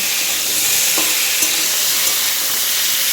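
Vegetables frying in a pan while being stirred, a dense continuous sizzle and hiss with a few faint scrapes of the spoon, close and steady throughout.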